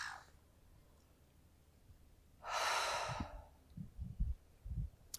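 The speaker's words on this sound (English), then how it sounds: "let's close our eyes down and taking some deep inhales and exhales" A deep breath during a gentle beginners evening yoga flow: one long, loud airy exhale in the middle, framed by faint breathy noise and a few low thumps of movement, with no talking.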